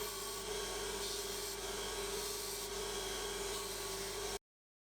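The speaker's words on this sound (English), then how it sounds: "First I'll polish the back of the chisel and get that nice and flat." The back of an old chisel is polished flat, a faint, steady rubbing hiss that runs evenly without clear strokes, then cuts off abruptly.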